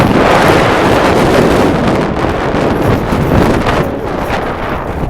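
Strong wind roars and buffets the microphone with a loud, constant rushing that barely lets up, on the summit of Chimney Rock Mountain.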